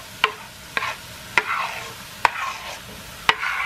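A spoon stirs chopped ingredients through a sizzling pan, five sharp knocks against the cookware spaced unevenly over a few seconds, each followed by a brief swell of frying hiss, close and clear with no talk.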